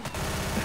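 Rapid automatic gunfire in the video game Left 4 Dead 2, a dense burst of fast repeating shots under constant loud noise, very brief.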